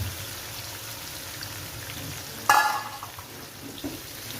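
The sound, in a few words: chopped onions frying in pan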